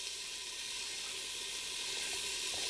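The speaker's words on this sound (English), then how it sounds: "I'm going to give these a rinse to make sure that all the seeds are gone" Red and yellow pepper halves rinsed under a running kitchen tap, giving a steady, even rush of water hiss that carries unbroken from start to end with no voices.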